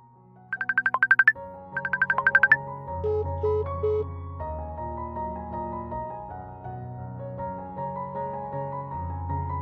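A mobile phone rings during a call: two quick bursts of bright trilling ringtone, then a softer melodic tone that carries on steadily to the end, with no voices.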